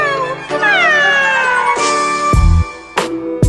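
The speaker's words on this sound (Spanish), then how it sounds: "los gatitos chiquitos hacen miau, miau" A cat meows several times in a row, drawn-out and rising then falling in tone, close and fairly loud, with short pauses between the calls.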